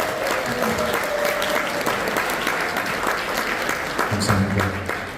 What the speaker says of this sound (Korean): 박수 한번 여러분 뜨겁게 많이 주세요